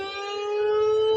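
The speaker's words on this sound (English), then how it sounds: "that sounds like a European ambulance" A European-style ambulance siren holds a steady, loud wailing tone with rich harmonics for just over a second, sounding close and nearly alone, with low rumbling underneath.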